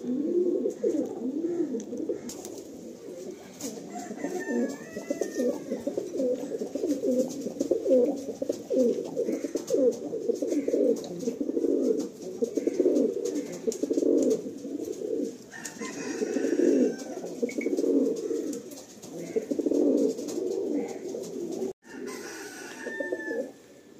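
High-quality pigeons cooing in a Kolkata breeder's loft, dense overlapping coos running continuously at close range, with a brief dip near the end and faint higher calls now and then.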